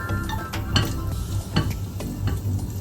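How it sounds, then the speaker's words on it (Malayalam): Chopped ginger frying in hot vegetable oil for a spicy green peas curry, a continuous close sizzle with a low hum and several stirring scrapes. "വെജിറ്റബിൾ ഓയിൽ നല്ലപോലെ ചൂടായിട്ടുണ്ട് അതിലോട്ട് നമുക്ക് ആദ്യം ഇഞ്ചി അരിഞ്ഞു വെച്ചത് ഇടാം"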